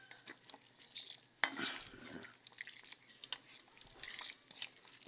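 Fish with plenty of ginger sizzles and sautés in a pan, with a steady frying hiss and occasional clinks of a utensil stirring against the pan.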